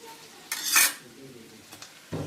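A spoon stirs basmati rice with garam masala in a pot, with two short scraping bursts of metal against the pan, the first louder and longer, under a quiet kitchen background.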